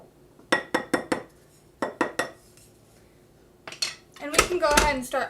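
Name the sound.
mixing cookie dough ingredients in a bowl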